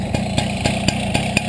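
Close, loud idle of a small motorcycle engine with a quiet clutch, thumping in an even rhythm for a brief moment with no voices.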